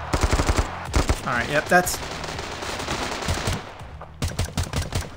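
Rapid automatic gunfire bursts ring out in the Standoff 2 mobile shooter, with dense volleys at the start and again near the end while a player talks briefly over the shots.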